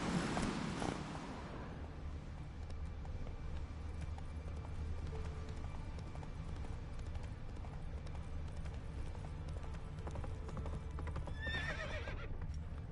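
Roach, a horse in the video game Witcher 3, gives a sharp neigh at the start, followed by a steady clip-clop of hooves that runs the whole way through at moderate loudness. Faint game sounds sit underneath.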